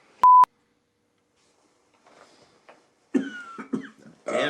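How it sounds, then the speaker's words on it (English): A single cough rings out indoors at a board game session, a short raspy burst following a brief electronic beep and some faint rustling. "Damn desperate cough."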